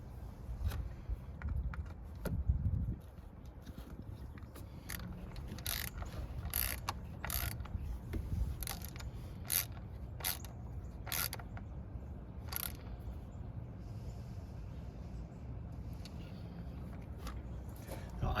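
A hand ratchet tightens the coil pack retaining bolt on a 2012 Ford F150 Coyote engine, making close, quiet rapid clicking bursts in short repeated strokes with pauses between.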